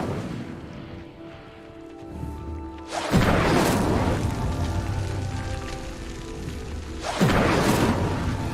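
Fire spells burst out in Hogwarts Legacy, two loud whooshing, roaring blasts a few seconds apart that fade into crackling rumble, layered over a low game background.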